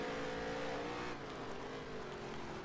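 Race car engine from NASCAR Heat 3 drones steadily at high revs, a continuous loud tone that dips slightly in pitch midway, with no talk over it.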